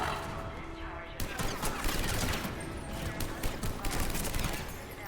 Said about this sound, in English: The power this gun has, shields don't even matter anymore.